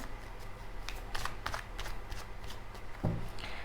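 Tarot cards being shuffled by hand, soft riffling and sliding of the deck with a few crisper flicks and a light tap near the end, close and moderately quiet.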